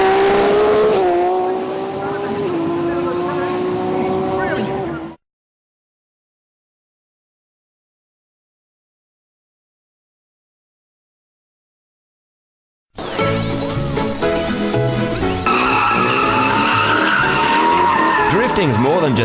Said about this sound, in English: he was very happy smoking some tyres for our cameras